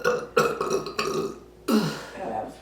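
A loud, drawn-out burp after drinking beer and Canada Dry ginger ale, rumbling in several pulses, then a second strong belch follows after a short pause.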